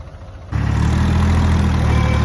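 A tractor engine labours atop a pile of corn silage being packed down, a loud steady mechanical drone that jumps up sharply after a brief quieter start and then holds level and close.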